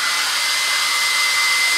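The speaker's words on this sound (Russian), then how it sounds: "Ты слышишь, как фен гудит?" A hair dryer hums steadily and close by, a constant broadband whir that holds at the same level without any break.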